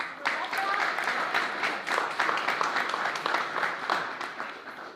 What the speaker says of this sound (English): You can give her a nice round of applause.